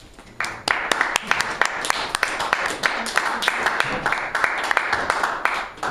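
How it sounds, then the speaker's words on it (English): Classroom applause for students fills the room, a steady, fairly loud patter of many hands clapping continuously with sharp individual claps standing out throughout. "Give them a big round of applause."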